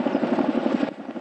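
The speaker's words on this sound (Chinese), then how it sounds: "陆军的直升机慢慢入场" Rapid, steady rotor thump of army helicopters flying in while carrying a giant national flag, a fast chopping pulse at moderate distance that continues without voices.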